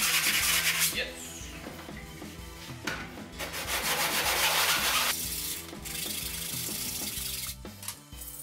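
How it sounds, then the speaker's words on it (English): Sanding the surface of a 3D-printed shotgun part by hand: steady, loud abrasive rasping strokes with brief pauses between passes, close up and without speech. "we have to sand down a little bit the surface to make it stick better"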